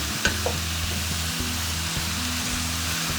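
Chopped celery frying and being stirred in a pan with quince for a Turkish celery dish, a steady close sizzle with a brief clatter near the start and no talking.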